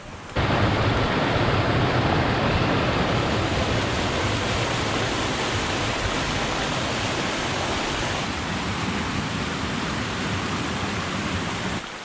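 Ruxton Creek rushing beside a hiking trail near Manitou Springs, Colorado, a loud, steady wash of flowing water that continues evenly for about twelve seconds.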